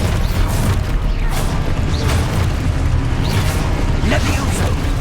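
An Expulso explosion spell in Hogwarts Legacy goes off in a loud, sustained booming blast with heavy low rumble and crackling debris, with a voice faintly audible beneath the noise.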